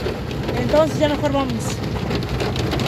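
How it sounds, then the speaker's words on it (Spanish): Heavy rain falls steadily at a rural ranch, a constant hiss under a short burst of close conversation, with a faint vehicle-like rumble beneath. "se vino bien fuerte la lluvia"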